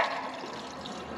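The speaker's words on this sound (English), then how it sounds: "we're just going to fill this up to do the leak tests with some pitchers of water from the house" Water pours from a pitcher into a chicken coop watering system, a steady close splashing stream that holds level throughout.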